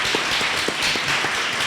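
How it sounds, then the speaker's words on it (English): An audience claps for department admin staff at an academic awards ceremony, a steady crowd applause with a few distinct, close, sharp hand claps standing out in an uneven rhythm. "give a round of applause to our unappreciated admin staff, Della, Pina, Judy, Andrew, and Dina."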